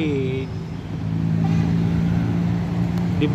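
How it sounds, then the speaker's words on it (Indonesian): A Kurnia AW Series bus rolls past at the Lambaru roundabout at night, its engine a moderate, steady rumble. A voice speaks over the start, and there is a faint tonal horn near the end. "melintas di Bundaran Lambaru Kurnia AW Series"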